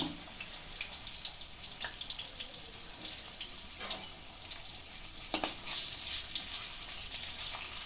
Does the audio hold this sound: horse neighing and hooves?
no